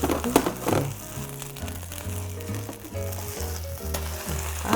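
An oyster and green laver pancake with shellfish fries in a hot pan, giving a continuous loud sizzle and crackle under steady background music, with no talking.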